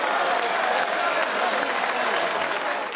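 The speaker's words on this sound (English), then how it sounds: "That was sarcastic applause" Sarcastic applause from a crowd at a political party launch, a steady dense clatter of clapping lasting the whole stretch, with voices murmuring underneath.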